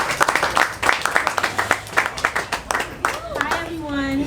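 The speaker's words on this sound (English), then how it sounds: "please give him a round of applause" An event audience claps in a brief burst of scattered, uneven applause that thins out within a few seconds, with voices underneath.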